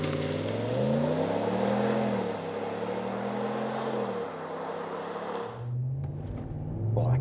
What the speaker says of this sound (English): dial up some revs, here we go.